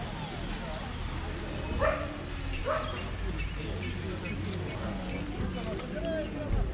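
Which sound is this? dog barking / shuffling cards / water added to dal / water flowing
dog barking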